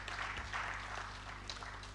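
Applause from the audience at the opening ceremony of a Nigerian Society of Engineers annual engineering week in Abuja, a steady, moderately faint patter of clapping held for about two seconds in a large hall.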